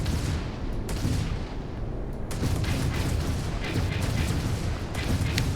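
Ship weapons firing in the space game Starfield, a steady barrage of rapid energy blasts and booming shots, loud and continuous with sharp repeated attacks throughout.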